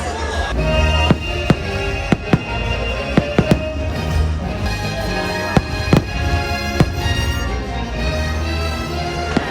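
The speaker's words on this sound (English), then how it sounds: "Those fireworks were absolutely insane." A dense, continuous fireworks display at Disney World with repeated sharp bangs and crackles over a steady rumble, loud and close, with crowd noise beneath.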